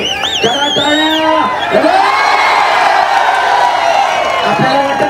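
A large crowd at a traditional wrestling match roaring and cheering, with shrill whistles and whoops rising over a continuous, loud wall of voices and scattered clapping.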